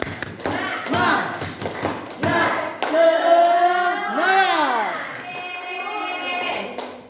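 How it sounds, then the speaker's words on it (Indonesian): A group at an Indonesian school gathering does a rhythmic spirit clap, a quick patterned series of hand claps and taps with voices chanting and calling out between and over the beats. "Tepuk semangat."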